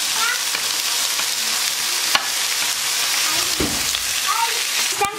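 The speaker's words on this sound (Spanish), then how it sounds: "Estoy preparando un pollo a la plancha con ajo salteado." Chicken cooking on a griddle alongside sautéed garlic gives off a steady, close, moderately loud sizzle that runs without a break, with a few soft clinks and stirring scrapes on top.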